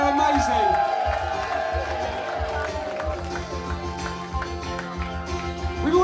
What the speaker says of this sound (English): They need a big round of applause.